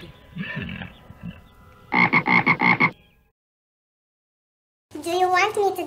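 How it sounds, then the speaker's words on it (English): A cartoon frog in a children's farm-animal lesson croaks in a quick burst of about six loud, evenly spaced pulses, with brief childlike voices before it and a singing voice entering after a pause. "Frog."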